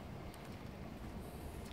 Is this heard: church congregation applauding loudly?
no